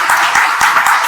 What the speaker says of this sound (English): a special shout out to Cyaira, you know what I'm saying, round of applause real quick